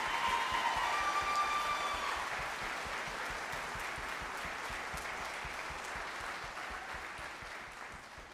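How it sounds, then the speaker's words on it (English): An audience at a high school fall band concert applauds the Color Guard in a steady wash of many clapping hands, a few cheers rising early, slowly fading at a medium distance. "can we hear one more applause for the Color Guard who work so hard?"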